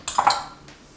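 Dishes clink and clatter in a home kitchen during cranberry relish prep, a quick cluster of bright ceramic knocks over about a third of a second, then fading to a quiet room.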